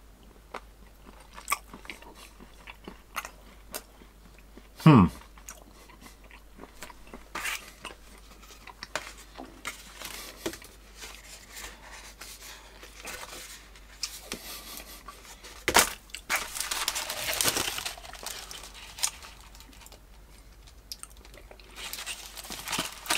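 Whisky-filled chocolate beans being bitten and chewed up close, with a sharp crunch near the start, then scattered soft crunches and mouth noises, and a louder burst of chewing later on.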